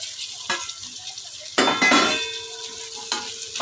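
Tomatoes dropped into a pan of coriander and mint frying for a vegetable biryani, giving a sudden burst of sizzling with stirring and the clink of a spoon against the pot, then a steady fry.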